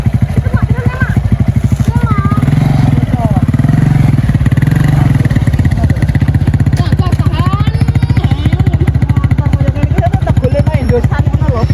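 A Suzuki motorcycle engine runs loud and close, chugging steadily throughout while people talk over it.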